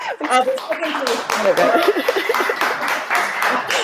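An audience at a Football v Homophobia live-streamed awards event claps and cheers for a third-place winner, the Canadian Women's National Team, with steady clapping, some laughter and a voice speaking over it.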